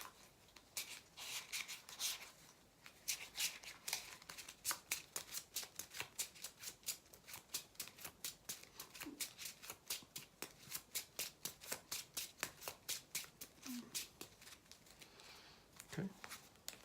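Playing cards for the Shadowrun: Crossfire board game are handled and drawn close up, a long run of quick, crisp card snaps and flicks, heard alone at a fairly quiet level.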